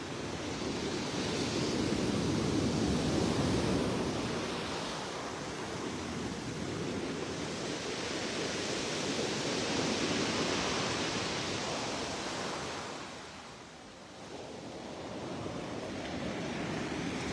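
Sea waves break on the shore at Scrusciu du Mari, a steady, full roar of surf that swells and eases slightly and briefly dips before building again, with no voices.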